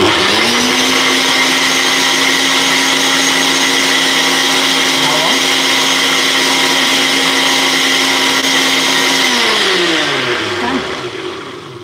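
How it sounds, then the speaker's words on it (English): A kitchen blender whirs loudly and close for about ten seconds as it blends a keto pasta mixture, a steady high motor whine that dips briefly midway, then winds down and fades at the end. "that is about 10 seconds of blending, and we now have a nice liquid"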